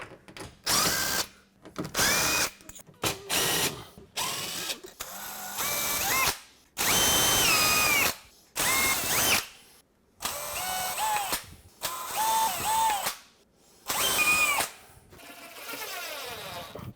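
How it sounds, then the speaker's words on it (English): A power drill pre-drilling holes during a kitchen renovation whirs in repeated short bursts, starting and stopping about a dozen times, loud and close with brief pauses between. "We will pre-drill"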